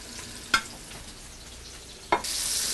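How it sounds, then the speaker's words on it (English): Steaks fry quietly in a pan with a soft, steady sizzle, broken by two brief sharp clicks or knocks before the sizzle swells louder at the end. "My steaks now have been cooking for 4 minutes."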